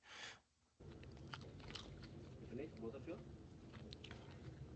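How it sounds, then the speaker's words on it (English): Someone chews food over lunch, with crunchy bites and mouth noises close to the microphone running under a continuous background voice, after a short sharp burst at the start. "This was recorded during lunch, by the way, which is why you can hear me in the background chewing."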